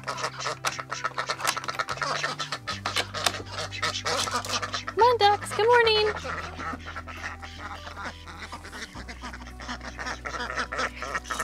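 Ducks from a small backyard flock kept with chickens behind a temporary fence give a few faint quacks under a person talking outdoors, with constant rustling and shuffling noise throughout.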